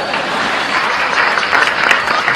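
A short burst of dense, loud clapping from a small group, steady and close, lasting a couple of seconds with no speech over it.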